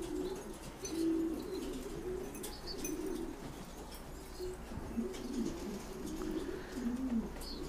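Pet pigeons coo steadily in low, repeated throaty calls at close range, with faint chirps and a light flutter of wings behind them.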